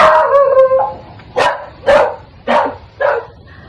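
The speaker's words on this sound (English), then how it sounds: "Dogs." Several sharp dog barks ring out in a quick irregular series after a brief whine, loud and close with no talk over them.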